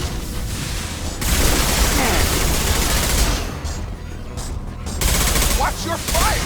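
Heavy gunfire in a Mass Effect 2 firefight, with dense rapid shots and booming bursts overlapping almost continuously at close range, briefly easing before resuming, amid loud battle noise and occasional voices.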